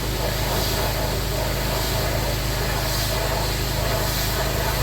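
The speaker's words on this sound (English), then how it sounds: "My neighbor is doing some pressure washing with his car, so it's absolutely loud" A neighbor's pressure washer sprays a car nearby, giving a steady, loud hiss over a low motor drone that stays constant throughout with no talking.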